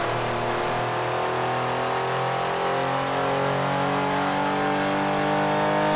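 A V6 Ford Cougar engine revs in Gran Turismo 2, a loud, continuous mid-pitched drone that climbs steadily in pitch as the car accelerates, with no voices.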